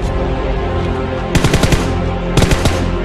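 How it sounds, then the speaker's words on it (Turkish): Gunfire rattles in PUBG Mobile, two sharp bursts of rapid automatic shots cutting over a steady low game background hum, loud and close. "kim vuruyor lan beni?"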